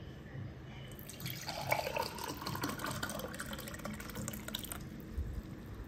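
Fermented rice water with chopped bits pours into a glass, a soft continuous trickling splash that starts after a quiet second and runs for several seconds, close and fairly faint.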